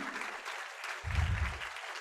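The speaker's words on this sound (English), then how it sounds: "I would actually request you to please do a huge round of applause for Mrs. Gitanjali Mandral" Audience applause breaks out at a school meeting, a short burst of clapping that swells for about a second and then fades.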